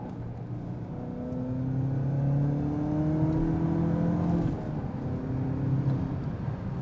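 A 2016 Chevrolet Camaro with the 2.0L turbo four accelerates, its engine note climbing steadily in pitch as it pulls through a gear, then dropping and rising again, heard from inside the car at a moderate level without talk.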